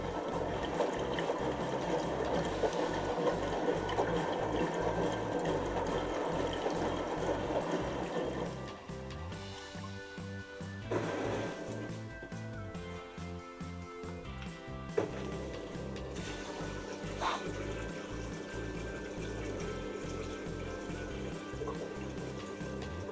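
A brand-new washing machine fills with water, a steady rushing and splashing flow that runs continuously with some pump-like pulsing and brief clunks partway through, with no talk.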